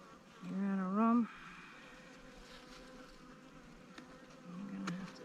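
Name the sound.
honeybee swarm buzzing around hive frames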